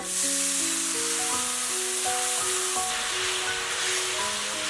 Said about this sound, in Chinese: 蒜末炒香，倒入料汁